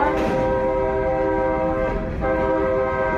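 A train rolls along snowy London tracks, its horn sounding loud and close in a steady tonal blast over the rumble of railcars for a few seconds, with no talk.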